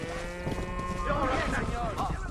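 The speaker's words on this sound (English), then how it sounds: "We've got to get these cows out the pasture" Cattle from a herd in the video game Red Dead Redemption low and moo amid game ambience, with hoof clatter nearby and a voice talking over them.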